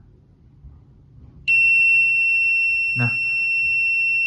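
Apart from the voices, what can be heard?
buzzer alarm of phase loss protector signalling a fault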